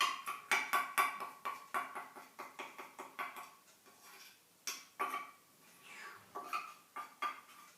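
A spoon scraping liquefied coconut butter out of a container, a series of quick bright metallic scrapes and taps in uneven bursts, close and fairly quiet, with short pauses between strokes.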